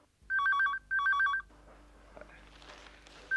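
Telephone ringing in two quick electronic trill bursts, loud and close, followed by a quiet room with a low hum and faint shuffling.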